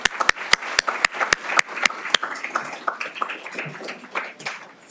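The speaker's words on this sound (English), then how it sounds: "let's give a round of applause for this group." At a Los Angeles County Supervisor candidates debate, the audience applauds a group. One sharp nearby pair of hands claps in a quick, even rhythm about nine times, then gives way to looser, scattered clapping from the room that tapers off.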